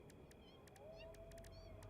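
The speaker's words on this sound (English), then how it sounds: "I hear cats." Several cats meow in short, faint, high calls scattered across a quiet stretch of the Satisfactory factory-building game, with a low ambient hum underneath.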